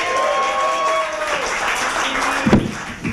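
A comedy club audience applauds a comedian coming on stage, a dense burst of clapping that starts strong and tapers over a few seconds, with a voice speaking over it early on.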